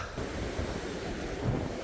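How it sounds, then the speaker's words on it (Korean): Rough sea surf breaks continuously on the shore during a cold northerly wind, a steady loud wash of waves with wind buffeting the microphone and a surge swelling near the end. "파도가 대단한데요"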